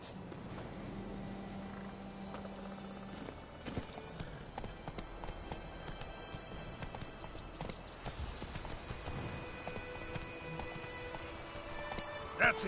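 Roach, the horse in The Witcher 3, gallops with rapid rhythmic hoofbeats and a brief whinny amid in-game music and effects, while a voice talks over parts of the ride.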